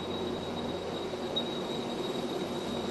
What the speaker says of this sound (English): We're right next to the engines right now, so this is the loudest we've had to hear it.